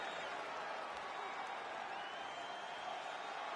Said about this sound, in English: the crowd voicing its appreciation after that round